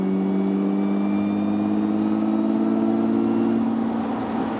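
A Lamborghini's Bizzarini V12, dropped into sixth gear around 2,000 RPM and floored, pulls with a loud, steady droning rise in engine tone that builds through the whole stretch without letup.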